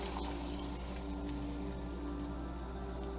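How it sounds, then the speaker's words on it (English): Two cups of red wine poured into a pan of browned mushrooms, giving a continuous close liquid pour that blends into a steady splash and hiss. "Now let's add our red wine."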